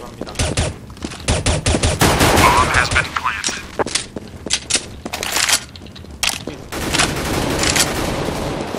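Rapid gunfire in the Counter-Strike video game: dense bursts of automatic shots and single cracks, loud and close, coming in uneven volleys with brief pauses, mixed with faint in-game clatter.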